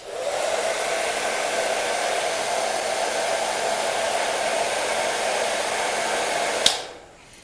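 Repaired hot air gun running without its shroud, a steady close blowing whoosh with a faint hum for several seconds, then a click as it shuts off and the airflow dies away.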